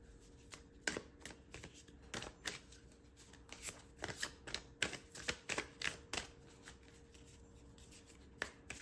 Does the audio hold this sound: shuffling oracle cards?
yes